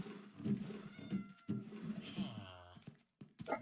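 A cat meows in Minecraft survival, a rising and falling call near the end of the clip, amid game noises and overlapping speech from a player talking throughout.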